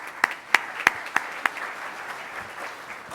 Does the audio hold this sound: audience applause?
yes